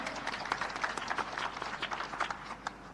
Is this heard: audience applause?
yes